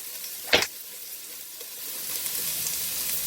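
Onions hit a hot pan with a sharp burst of sizzle, then settle into a steady, close frying hiss.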